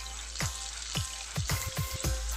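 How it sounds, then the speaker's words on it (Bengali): Lentils are stirred into cooked meat in a hot pan, giving a steady low sizzle broken by several sharp scraping strokes of the spoon at an uneven rhythm. The sound is close but moderate in volume, with no talking. "আর এখন আমি ডালগুলো এর ভিতরে দিয়ে নেড়ে নিয়ে ভালোভাবে কষিয়ে নিব।"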